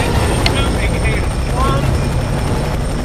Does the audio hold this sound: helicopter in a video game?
yes